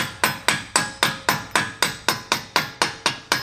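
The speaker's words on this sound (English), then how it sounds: "So now we'll just be able to tap this out." A hammer taps a Nissan 370Z axle out of its hub with about a dozen sharp, evenly spaced metallic strikes in a steady rhythm, close and clear.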